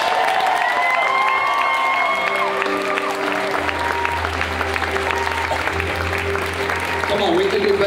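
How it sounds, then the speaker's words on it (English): Church congregation applauding during a worship service, clapping and some cheering under sustained organ or keyboard tones and music, with voices mixed in; loud and continuous. "give the Lord a round of applause."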